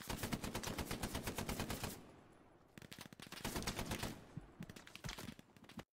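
Machine gun fire in the video game Hell Let Loose, rapid sustained bursts of shots, a short pause, then more long bursts, loud and close with no talking.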